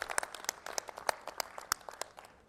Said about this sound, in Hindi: एक बार जोरदार तालियां बजा करके इन साथियों का स्वागत करें।